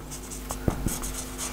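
Pen strokes scratch across paper in short bursts during an English grammar lesson, with a few soft taps and scribbles close up over a constant low background hum.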